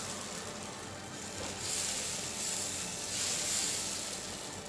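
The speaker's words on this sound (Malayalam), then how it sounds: "അതിലേക്ക് ഒരു തവി മാവ് ഒഴിച്ച് വളരെ നൈസായിട്ട് പരത്തി കൊടുക്കുക." A ladle of dosa batter spreads across a hot pan with a loud, close, continuous sizzling hiss that swells twice as it is spread thin. No one speaks.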